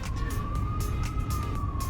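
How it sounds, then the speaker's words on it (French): An ambulance siren in a street in Belgium, a loud sustained wailing tone that slowly dips in pitch, over heavy traffic rumble and rhythmic whooshing bursts. "Ça c'est l'ambulance."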